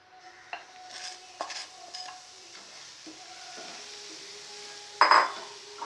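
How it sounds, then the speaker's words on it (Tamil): Semolina being roasted and stirred in melted Dalda in a pan, with soft scraping stir strokes and gentle sizzling throughout, a few light clinks of utensil on metal, and a louder scrape near the end. "இப்போ வந்து நம்ம ரவையை இதில் கொட்டி நல்லா செவக்க வறுத்து எடுத்துக்குவோம்."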